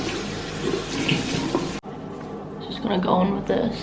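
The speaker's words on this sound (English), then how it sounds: "I'm going to soak it in hot water and then use it to wipe this off" Running water from a tap pours steadily into a sink while a face cloth is soaked in hot water, with a brief break before splashing and sloshing return, and someone talks over it.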